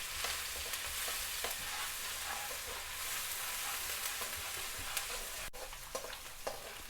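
Ginger and onion paste sizzling as it goes into chicken frying in a pan, a steady dense crackle with intermittent stirring clinks and scrapes, close and continuous with no talk.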